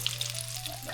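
Steady crackling sizzle of fish frying in hot peanut oil, close and continuous, with no voices.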